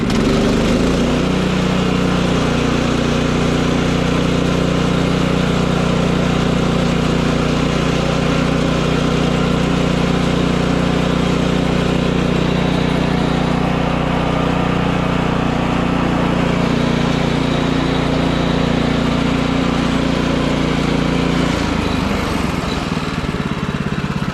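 The engine of a portable sawmill milling pine runs loud and steady nearby, a constant droning hum that drops and winds down near the end.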